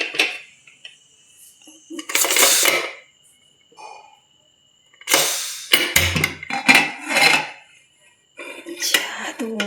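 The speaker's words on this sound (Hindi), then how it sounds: "ये कुकर है और इसे मैं आपको खोल के दिखाती हूँ।" A pressure cooker holding rice and dal is opened in a home kitchen: a few metallic clanks and scrapes of the lid and pot in bursts, with brief hissy noise between quiet gaps.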